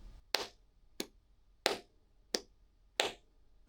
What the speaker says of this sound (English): So you can hear a very clear, strong, weak clap in your response